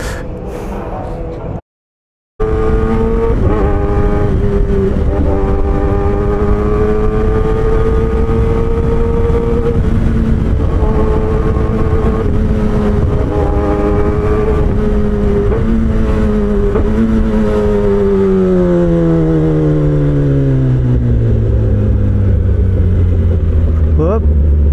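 A Kawasaki ZX-10R sportbike engine braking on a ride, a loud steady engine drone that falls smoothly in pitch over many seconds, with wind rush and a brief dropout near the start.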